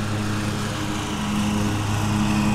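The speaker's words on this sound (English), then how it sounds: "there's a guy mowing the cemetery on Memorial Day." Lawn mower engine droning steadily as someone mows a cemetery on Memorial Day, a constant buzzing hum at moderate distance with no voices.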